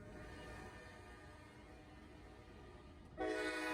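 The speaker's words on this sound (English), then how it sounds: "Rarely, the Newcastle will see some reroutes, like this 779 empty coal train" An empty Norfolk Southern coal train rumbles past steadily, and near the end a loud horn blast cuts in over the rolling noise.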